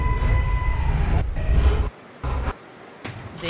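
Bronx-bound 6 local subway train in New York running loudly with rumbling low noise and a faint high whine, then dropping to quieter stretches between bursts.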